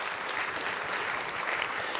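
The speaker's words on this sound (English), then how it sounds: "Give yourselves a round of applause if you would." A live audience at a county budget town hall gives itself steady applause, a continuous wash of moderately distant clapping that holds for a couple of seconds.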